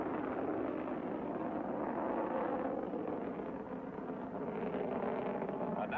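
Mercury-Atlas rocket lifting off in 1963: a faint, distant broadband roar that rolls on unbroken for several seconds, with no voices.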